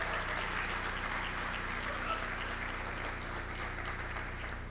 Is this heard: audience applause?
yes